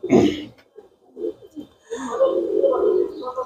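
A White Golden pigeon held in the hand coos up close in short, soft throaty bursts, with a voice murmuring faintly in between.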